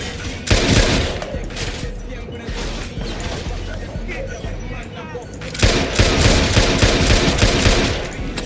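Gunfire in the video game Watch Dogs 2: dense, rapid bursts of automatic shots crackle nearly nonstop, with a louder, heavier volley starting about two-thirds of the way through.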